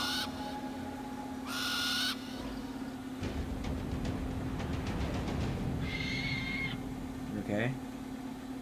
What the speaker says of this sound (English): He's a good owl.